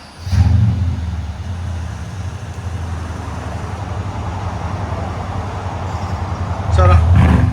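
Mercedes S550 with a 5.5L V8 and muffler delete, the engine rumbling loud and close with a deep, steady drone, swelling into sharper revs at the start and again near the end.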